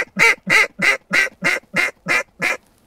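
A drake mallard quacks eight times in an even, steady rhythm, each call loud and close, with quiet outdoor stillness and no wind in the gaps.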